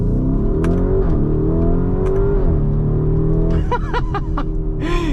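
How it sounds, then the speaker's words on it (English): A 2023 Lamborghini Urus S in Corsa mode accelerates hard, its engine note rising loud and close through several upshifts, each marked by a brief dip in pitch and pops of exhaust crackle. "Let's go ahead and see what this thing is like to drive."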